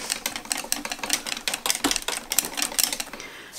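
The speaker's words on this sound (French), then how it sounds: "Alors là je mélange au fouet parce que j'ai pas envie que ça déborde." A whisk beats a very full mixture for a Carambar caramel sauce, giving rapid, steady metallic clicking and scraping against the container, close and fairly loud with no talking.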